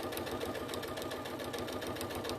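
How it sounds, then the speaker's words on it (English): Steady, rapid mechanical chatter from a sewing machine running continuously while top stitching a patchwork corner, close and even throughout. "So I'm going to top stitch that."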